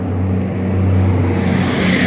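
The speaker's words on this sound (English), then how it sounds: "loud car." A loud car passes close by with a heavy, steady engine drone and a low rumbling hum that holds throughout.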